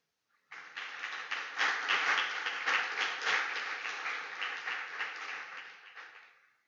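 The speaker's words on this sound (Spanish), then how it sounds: "Y yo pido un aplauso al Señor por la vida de él." Church congregation applauding during a Sunday service, a dense, even burst of clapping that starts abruptly, holds steady for several seconds, then tapers off.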